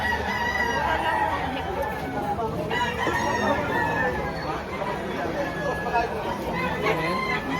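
Roosters crow repeatedly amid a busy crowd at a chicken market in Lipa, Batangas, Philippines, with people chattering nearby throughout.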